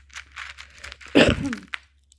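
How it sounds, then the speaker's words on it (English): A single rough cough bursts out near the middle, with faint rustling and breathy noises around it. "Sorry guys, I need to cough on you."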